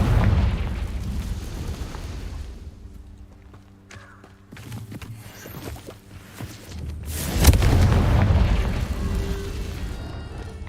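A Confringo explosion spell goes off in the video game Hogwarts Legacy: a low rumbling blast, then scattered small clicks and steps, and a second louder boom that swells and lingers.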